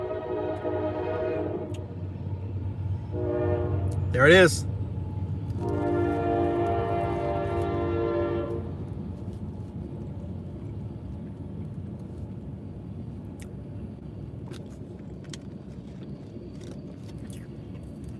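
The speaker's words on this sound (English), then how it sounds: "Woo, that train is loud." A passing train sounds its horn in several sustained blasts over a steady rumble of rolling wagons, heard from a car in snowy weather, with a brief spoken remark amid the noise.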